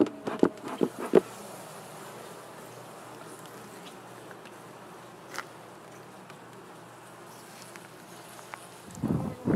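Honey bees at an open hive during a summer inspection for queen cells, a steady, low buzzing drone held throughout at moderate level, with a few louder handling knocks near the start and end.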